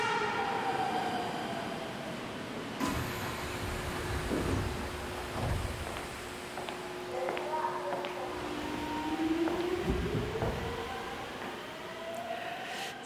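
A subway train runs with a deep rumble and rattling carriage noise, a long sustained horn-like tone in the middle and squealing wheels, with some brief talk faintly mixed in.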